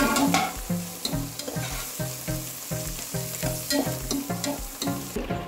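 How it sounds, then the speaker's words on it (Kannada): Coriander and mint leaves fry for egg biryani, a loud close sizzle punctuated by a regular rhythm of stirring strokes and clinks against the pan. "ಎಲ್ಲ ಮಾಡಿ ಫ್ರೈ ಮಾಡಬೇಕು"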